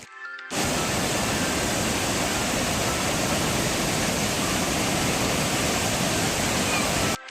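Keralakundu waterfall, reached by an iron bridge and steps, roaring as a broad, steady rush of falling water that starts abruptly and holds loud and close for several seconds, with no voices.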